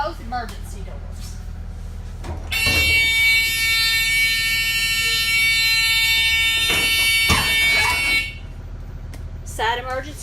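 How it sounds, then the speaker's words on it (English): A bus's side emergency door buzzer gives a loud, continuous electronic tone for about six seconds, with short clunks before and after it. "Side emergency door, the buzzer works and it opens and closes properly."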